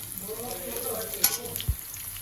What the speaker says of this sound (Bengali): দিয়ে দেওয়া হয়েছে পেঁয়াজ, দিয়ে নেড়ে নেওয়া হচ্ছে কিছুটা